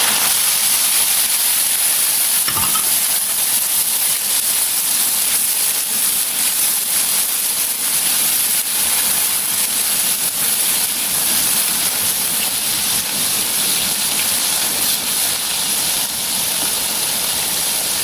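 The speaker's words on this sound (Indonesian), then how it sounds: "Selanjutnya goreng irisan bawang merah." Shallots sizzle in hot oil with a steady, loud crackling hiss that continues without pause.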